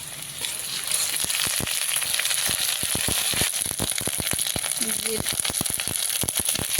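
Green chili and ginger paste frying in hot oil with a steady, dense sizzle and crackle, punctuated by sharp spatters and stirring scrapes, close and continuous.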